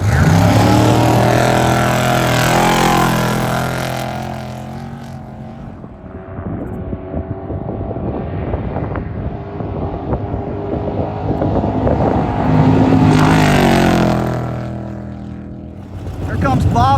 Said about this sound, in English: this is an old Class 8 truck. They converted it into a trophy truck.